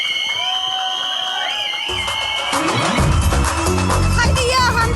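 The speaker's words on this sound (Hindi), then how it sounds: "एक बार जोरदार तालियां हो जाएं इस पूरी टीम के लिए।" A crowd at a film trailer launch applauding and cheering for the cast and team, loud and sustained with shouts rising over a musical backdrop.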